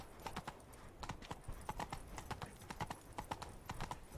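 Roach, the horse in the video game Witcher 3, clip-clops along in a quick, even rhythm of hoofbeats, close and distinct, continuing throughout.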